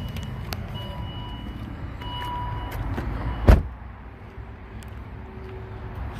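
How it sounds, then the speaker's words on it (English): A 2010 Volvo S80 engine idles as a low steady rumble, then a single sharp thump cuts it off, leaving quieter background noise afterward, with no talking. "Shut off the motor."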